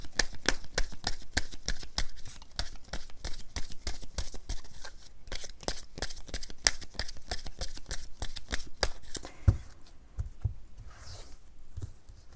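Tarot cards are shuffled in a rapid run of crisp, close riffling snaps that stop near the end, followed by a few soft taps as cards are drawn and laid down, with no talk.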